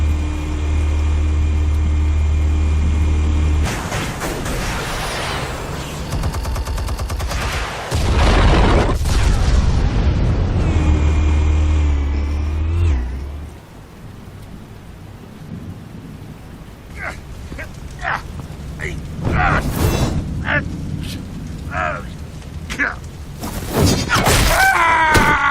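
Explosives and gunfire in Batman The Telltale Series: a long, loud, rumbling roar with deep booms, a sudden drop to quieter ambience, then a run of sharp, rapid cracks and bursts building again toward the end.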